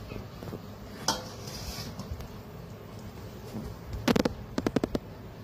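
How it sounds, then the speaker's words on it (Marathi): A spoon pushes ground flour through a metal sieve, producing soft scraping with faint clicks, then a quick run of rattling metallic taps near the end. "आणि बघा एक चमचा घ्यायचा आणि असं बघा कसं खाली बारीक एकदम पीठ पडतंय।"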